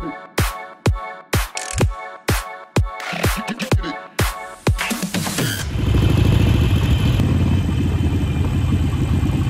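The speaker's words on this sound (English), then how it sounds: "this is a Harley Davidson 883 Iron Sportster." Harley-Davidson 883 Iron Sportster motorcycle in a parking lot, opening with a run of sharp, rhythmic engine pulses and clattering bursts, then settling into a loud, steady rumbling drone for the remaining seconds.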